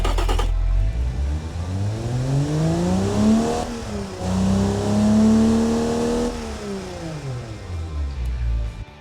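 A 1964 Ford 300ci (4.9L) inline-six, tuned to rev to 6,900 RPM and simulated in the Automation game, revs loudly through repeated rising and falling sweeps, climbing hard, dropping back and climbing again with no talk over it.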